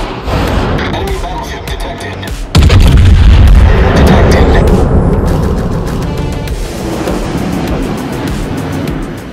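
Big guns of the Tier 9 German battlecruiser Prinz Rupprecht fire in a naval combat game, a heavy booming blast after a stretch of rumbling engine and sea ambience, then a long fading roar.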